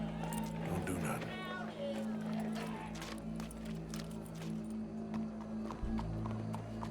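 A horse approaching, its hooves clip-clopping in a quick rhythm under a sustained low musical score, with people speaking over it.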